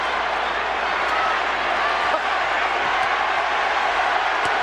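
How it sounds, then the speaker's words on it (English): Dense, steady roar of a large boxing arena crowd cheering during the Pacquiao vs Clottey fight, a constant loud wash of voices with no break. "The crowd have really got into this"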